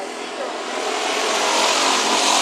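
Hobby stock race cars at Bakersfield Speedway roaring away at the start of a heat race, a dense, steadily swelling engine drone that builds louder over a couple of seconds.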